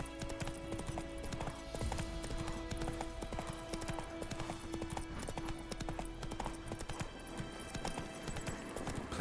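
Horse hooves clip-clopping across ground in The Witcher 3 video game, a steady rhythm of hoof beats over game music and ambience, with an occasional faint whinny.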